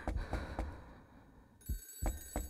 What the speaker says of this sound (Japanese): 電話鳴ってるよね。